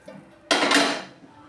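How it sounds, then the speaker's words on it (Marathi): Roasted black sesame seeds are tipped from a pan onto a plate, giving one brief close rattling clatter and scrape after a quiet moment. "मी प्लेटमध्ये काढून घेते।"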